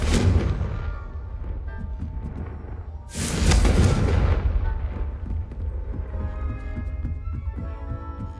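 A Confringo fire spell bursts in the video game Hogwarts Legacy, a loud booming blast that hits suddenly partway through and rumbles away over a couple of seconds above a dense game soundscape.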